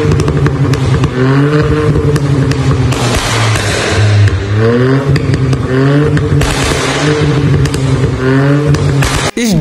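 Volkswagen Virtus sedan with a stock-style original exhaust revving loudly and close, engine pitch rising and falling through several throttle blips over a steady idle.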